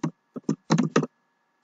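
A few keystrokes on a computer keyboard, five quick clicks in an uneven rhythm, close and clear, followed by quiet.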